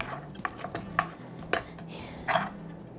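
A spoon stirring food in a pot while cooking, giving a few light metallic scrapes and clinks at uneven intervals, close and fairly quiet with no talking.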